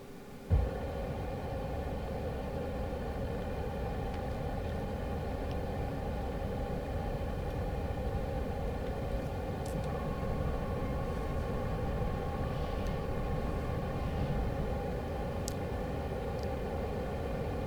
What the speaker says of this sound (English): Alright, lighting the burners.